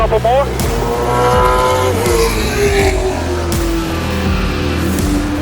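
A race car laps a track with a loud, close engine note that climbs and drops through the gears. Tires squeal briefly, and someone talks over the engine.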